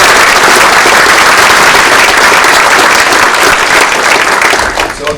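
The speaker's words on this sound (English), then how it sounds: "So let's get a round of applause." Loud, dense applause from a crowd at a Navy command master chief's retirement ceremony, sustained throughout and tapering slightly at the end.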